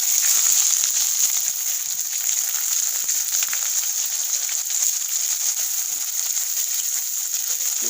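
Loud, continuous hissing sizzle of chopped onions frying in hot oil, steady throughout with no voices.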